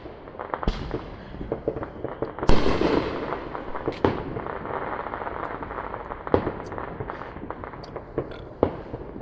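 New Year's Eve fireworks and firecrackers going off outdoors in an irregular series of sharp bangs and pops, some near and loud, others farther away, with crackling between blasts.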